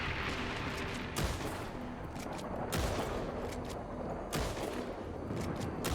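Gunshots in Red Dead Redemption 2's zombie mode hit zombies in the head: four loud, sharp single shots spaced a second or more apart over a constant rumbling background, no talking.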